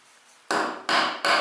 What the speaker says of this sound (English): I'm gonna use my small chisel to get rid of some of the waste here.